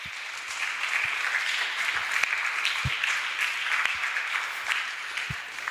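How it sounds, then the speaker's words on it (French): A church congregation applauds during a French-language Sunday service, a steady burst of clapping with scattered louder claps, fairly close and sustained for several seconds. "On acclame le Seigneur Jésus."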